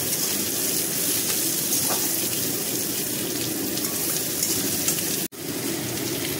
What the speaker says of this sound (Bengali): এবার নাড়ব ভালো করে,